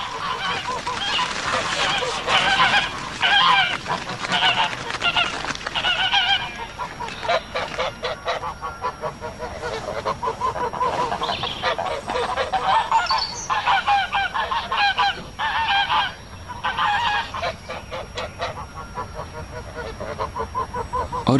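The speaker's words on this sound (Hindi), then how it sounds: "मेरी निगाह बत्तखों पर पड़ी जो आंगन के कोने में एक साथ मिलकर तरह तरह की आवाजें निकाल रही थी" Ducks and geese honk and quack continuously in a yard, a loud, busy chorus of overlapping calls close by.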